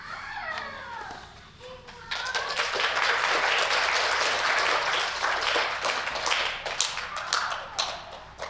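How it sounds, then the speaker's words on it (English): An audience at a Native friendship centre storytelling gathering bursts into applause for the storytellers; a voice speaks first, then dense clapping swells and continues steadily before thinning with a few scattered claps. "Can we get another round of applause for our storytellers?"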